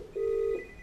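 A browser-based soft phone rings during a demo call, sounding as one clear, steady electronic tone lasting under half a second over quiet room hiss.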